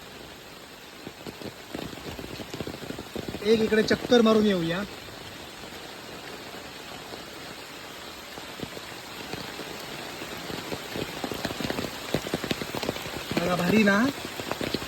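The first monsoon rain falls steadily in a forest with an even, hissing patter throughout. Someone speaks briefly twice over it.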